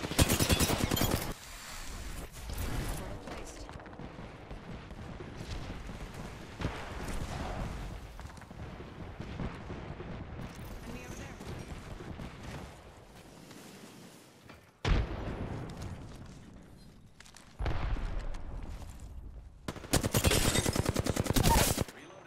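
Rapid automatic bursts from a Flatline rifle in the video game Apex Legends, loud and close, fired in several long volleys separated by short quieter gaps.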